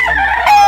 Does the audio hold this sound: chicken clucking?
yes